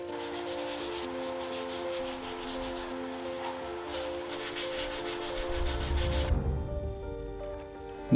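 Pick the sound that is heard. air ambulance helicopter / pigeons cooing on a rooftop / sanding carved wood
sanding carved wood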